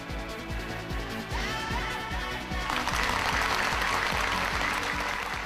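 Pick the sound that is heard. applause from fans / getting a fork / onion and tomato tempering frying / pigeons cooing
applause from fans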